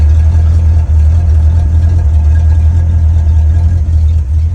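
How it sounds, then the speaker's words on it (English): A 1966 Ford Mustang idles through a modified exhaust cut off at the rear axle with turn-downs, giving a loud, steady, deep rumble that holds unbroken and close throughout. "you're going to see this car now is equipped with a little different exhaust"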